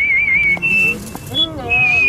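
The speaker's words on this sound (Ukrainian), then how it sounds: "Никак свистеть здесь вздумал. Не свисти, говорю." A person whistles a short, bright tune in several shrill phrases, close by, with a voice speaking briefly between them.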